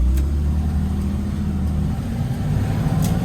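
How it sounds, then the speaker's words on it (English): A VW LT35 bus with a naturally aspirated 6-cylinder petrol engine pulls away, a steady loud low engine drone with slight rise in revs throughout, heard close and without talk. "we got a lovely 6-cylinder petrol engine which is naturally aspirated"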